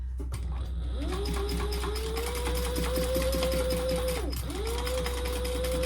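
Sewing machine running a line of top stitching along a crossbody phone bag, a steady close whirring hum with one brief slowdown near the end before the motor picks up again.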